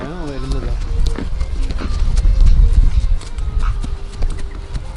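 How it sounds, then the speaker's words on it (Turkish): Horse hooves clip-clop in a steady rhythm close by, while people talk over them and a horse briefly whinnies. "Çok güzel hayvanlar atlar."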